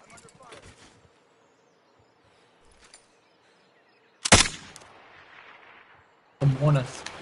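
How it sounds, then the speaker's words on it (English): Gunfire in the video game Warzone comes as a few sharp, loud shots with short echoing tails, separated by quiet gaps, while a player talks briefly. "shooting."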